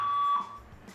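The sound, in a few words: fire alarm going off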